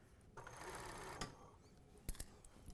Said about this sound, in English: this is the machine that actually finishes the hem finish